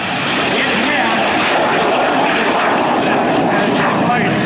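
A jet airplane flies at the California International Airshow, giving a loud, steady broadband roar that fills the whole stretch, with a voice faintly underneath.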